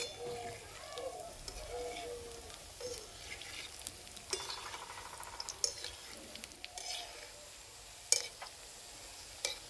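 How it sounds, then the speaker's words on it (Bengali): A spatula stirs small biscuits frying in oil in a pan, with soft sizzling under intermittent scraping and clicking strokes against the metal, fairly quiet and close. "খুন্তিরে গোঁড়াটা করে নেড়ে দেবো ঠিক এইভাবে।"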